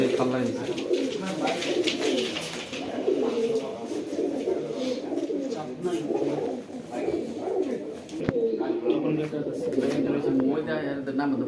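Racing pigeons coo repeatedly up close during tournament ring sealing at a pigeon club, their soft rolling calls layered under frequent nearby talk.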